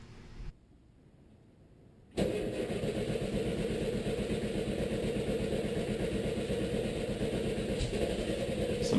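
A 1975 VW Brasilia engine cranks briefly, goes quiet, then catches and runs as a steady, loud, continuous idle for the rest of the stretch, close by.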